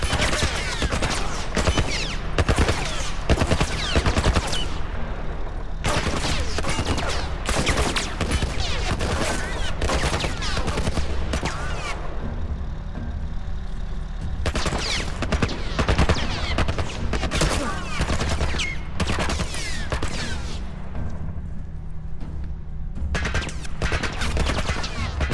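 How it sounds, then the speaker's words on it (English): Heavy military turret fire in The Last of Us, with long, loud bursts of rapid automatic shots in repeated volleys separated by brief pauses. "Some kind of military turret."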